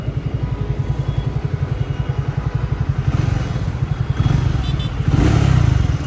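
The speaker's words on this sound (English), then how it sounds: "Today I am going to take a test drive of Triumph Speed T4, which is 400cc with a heavier crank" A Triumph Speed T4 400cc motorcycle with a heavier crank on a test ride: a steady, rapid thumping engine beat that swells a little louder and rougher toward the end.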